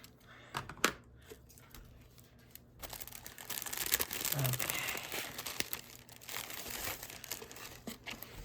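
Art advent calendar packaging being cut open and unwrapped, with crinkling paper and plastic rustles, a few sharp taps near the start and steadier close crumpling through the rest.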